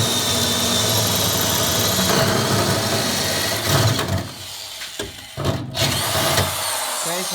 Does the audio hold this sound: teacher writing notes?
no